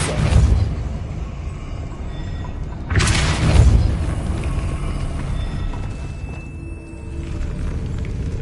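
Depulso force-blast spell in the Hogwarts Legacy video game: a sharp, loud whooshing burst with a deep thud, preceded by a softer impact and followed by lingering low ambience and faint tones.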